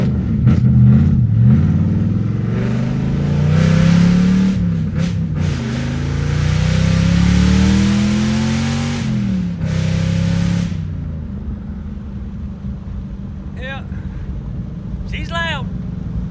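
A Fox body Mustang engine roars loudly as it accelerates, the pitch climbing and dropping through gear changes, then fades to a lower drone with brief chirps near the end.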